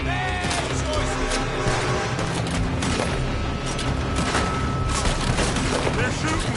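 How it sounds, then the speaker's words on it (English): Heavy gunfire pours from a building in Red Dead Redemption 2, a dense, continuous barrage of shots and booming reports with voices shouting over it. "They're shooting from that building!"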